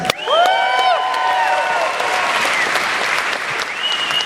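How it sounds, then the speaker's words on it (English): An audience at a film festival interview breaks into sustained applause with some whoops and cheers, while a voice speaks over the start of the clapping. "I just wanted the applause"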